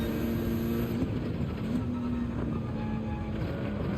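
Race car engine in Gran Turismo 7 during a Nations Cup round at Lago Maggiore, a steady close-up drone holding a sustained pitch with slight shifts, loud and continuous throughout.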